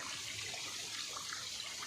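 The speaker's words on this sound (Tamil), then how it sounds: "இன்றைக்கி பயங்கரமாக மழை." Heavy rain falls on a mountain as a steady, dense broadband hiss and patter that stays even throughout, close and enveloping with no voices.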